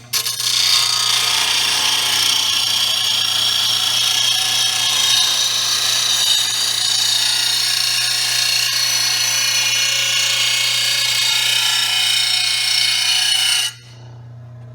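Oregon 88-025 mower blade grinder, 1/3 hp, sharpening a rusty gator mower blade: a loud, steady, high grinding whine with a constant motor hum underneath, running continuously and stopping abruptly near the end.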